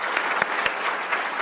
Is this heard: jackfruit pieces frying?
no